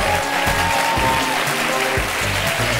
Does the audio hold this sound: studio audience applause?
yes